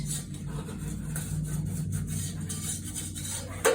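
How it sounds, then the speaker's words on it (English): A whisk scrapes and stirs a butter and flour mixture in a pan as it thickens, a continuous rough rubbing and rasping at moderate level, ending in a brief louder clink. "I'm just going to whisk this all together till it gets thickened"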